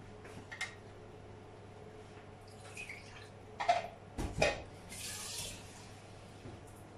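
Water runs from a tap in brief splashy bursts, ending in a longer steady pour into a pot of mutton paya, with a few clinks and knocks nearby; no talking.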